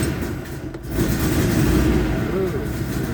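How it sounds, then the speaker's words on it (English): A 1972 Porsche 914 engine cranking and catching, then idling with a steady rough mid-pitched rumble, close and loud, with a voice briefly over it. "This is my 1972 Porsche 914. We'll start it up and go for a ride here."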